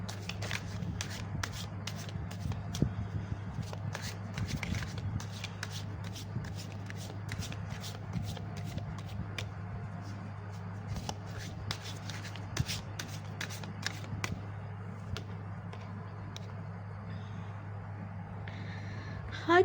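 Tarot cards are shuffled in a steady run of soft papery riffles and flicks for about twenty seconds, close and alone, with a faint low hum underneath.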